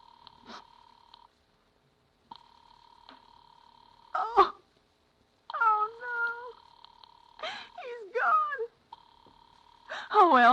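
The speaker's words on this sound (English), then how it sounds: "You may dial that number direct." A telephone being dialed as a radio-drama sound effect, with steady phone tones broken by short clicks, while a distressed voice sobs and cries out between them.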